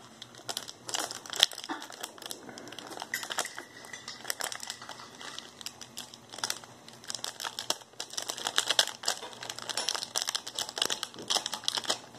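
A crinkly chip package for the One Chip Challenge is handled and torn open, giving dense, irregular plastic crackling and crumpling bursts close up, with no talking.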